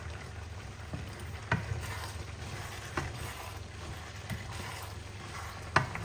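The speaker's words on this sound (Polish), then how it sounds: "powolutku mieszamy sobie wszystko" Al dente pasta is stirred slowly in a pan over a soft background sizzle, with a spoon scraping the pan in sharp clicks every second or two.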